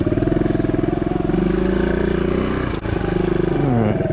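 A 2009 Suzuki DR200 dirt bike climbing an off-road hill, its single-cylinder engine droning loud and close at steady revs, rising in pitch near the end, with a brief dip in the middle.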